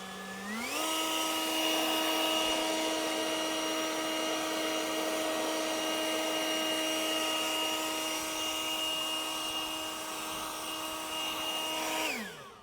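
Greenworks 80V battery leaf blower running: a brief low hum spins up to a loud, steady whine with rushing air that holds for about eleven seconds before quickly winding down, no voices.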